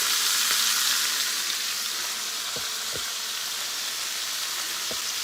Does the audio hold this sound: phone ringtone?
no